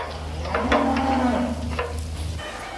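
Cattle on a farm in Brunei moo once, a loud, close, drawn-out low call lasting about a second, followed by quieter farm background.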